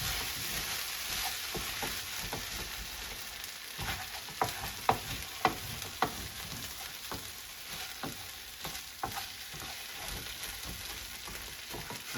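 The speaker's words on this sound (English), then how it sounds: "added about maybe a 1/2 tablespoon of butter to it. Now we'll go ahead and mix it one more time" Hash mixed with a little butter in a pan gives a quiet, steady sizzle broken by spatula scrapes and a few sharper taps midway, fairly faint and close, no talk.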